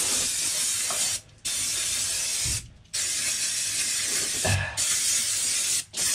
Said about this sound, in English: So I'm going to give this a quick blast with some brake cleaner.